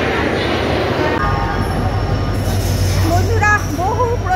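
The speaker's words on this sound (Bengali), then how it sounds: "আমরা এখন রয়েছি এই যে দেখতে পাচ্ছ হাওড়া স্টেশনে" Trains move through Howrah railway station with a loud, steady rumble of rolling wagons and a squeal of wheels near the end, while voices carry across the busy platform.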